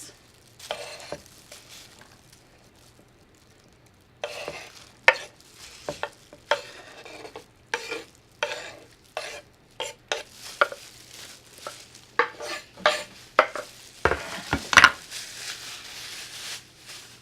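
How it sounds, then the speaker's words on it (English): Chopped peppers hit a hot pan for white chicken chili and set off a soft sizzle, followed by regular scraping strokes of a spoon stirring them around. The sounds come close and clear, with a louder clatter near the end. "So we're gonna add our peppers."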